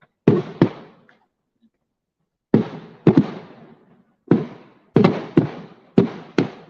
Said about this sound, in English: Fireworks for the city.